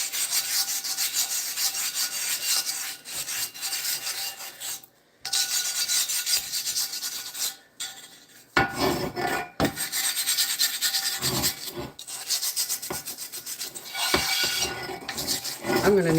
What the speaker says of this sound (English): Any bit of rust you see, take your pumice stone to it.